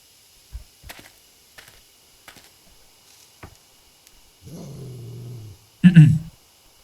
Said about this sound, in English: It's that dog.